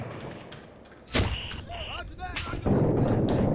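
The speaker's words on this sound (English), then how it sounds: "That was a sniper shot from behind, I think." A sniper rifle shot in the Six Days in Fallujah video game cracks sharply once, followed by a brief ringing tone and scattered game sounds, with speech nearby.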